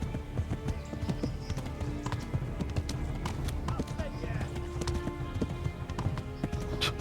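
A horse gallops in the medieval video game Kingdom Come: Deliverance, its hooves beating a quick, steady clip-clop throughout while someone talks over it.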